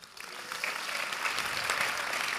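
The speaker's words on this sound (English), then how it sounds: "Your applause, please, for Carsten Warholm." An athletics gala audience breaks into sustained applause, a dense steady clapping from a large indoor crowd that builds slightly and holds, with no speech over it.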